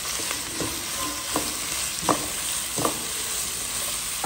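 Vegetables tossed into hot oil with chicken for chicken chow mein give a steady, close sizzle, broken by a few sharp scrapes and clinks of a stirring utensil roughly every second, with no talking.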